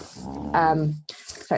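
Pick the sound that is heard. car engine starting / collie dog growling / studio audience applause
collie dog growling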